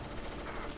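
Gunfire in the Metal Gear Solid video game on PS1, a brief burst of loud, noisy blasts with no pause between them.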